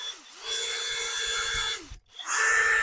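A Grosser GCD 161KBT cordless drill drives a screw into wood, its high motor whine running steadily for over a second before cutting off, then a short pause and a fresh burst of spinning.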